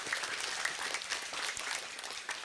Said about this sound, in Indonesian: Boleh sekali lagi tepuk tangannya untuk DTA Hidayatul Mubtadin.